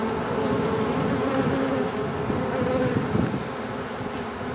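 A honey bee swarm hums in a dense, continuous buzz during a swarm removal, close and steady throughout with no talking.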